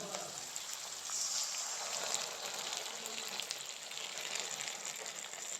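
A ketchup, red chilli, soy sauce and cornflour mixture hits a hot pan for chilli chicken, giving a steady soft sizzle and hiss that holds evenly throughout.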